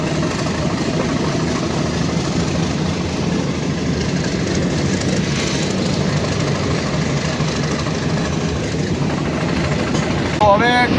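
A metre-gauge passenger train pulls out from Chalala toward Junagadh, giving a steady loud rumble of engine and rolling wheels that holds the whole time. There is a brief squeal near the end, with faint voices mixed in.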